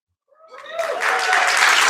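An audience at a community fall breakfast begins applauding the student panelists after a brief vocal sound; the clapping swells quickly into a loud, sustained round that continues to the end.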